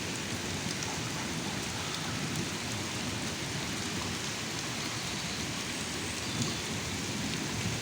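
Heavy thunderstorm rain in Belgium, a dense steady hiss of downpour drumming on surfaces with a low rumbling undertone, continuous and even, with no voices.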